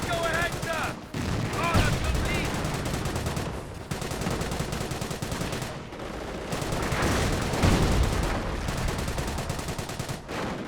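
Dense rattling gunfire and machine gun bursts in Company of Heroes 1, continuous and loud across a busy battle with a voice talking over the shooting.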